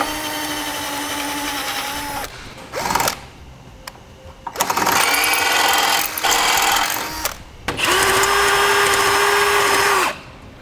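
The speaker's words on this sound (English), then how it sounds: "now we'll gradually increase our drill bit size until it's the size indicated in the" Power drill on a 2002 Honda CR-V, whining in several close, loud bursts of steady pitch as it enlarges a hole during a Blue Ox base plate installation, with brief pauses between runs.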